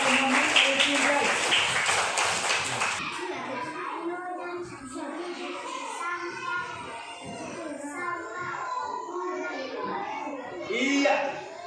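Schoolchildren in a classroom applauding a classmate, a burst of close clapping for a few seconds, followed by children's chatter and a teacher's voice.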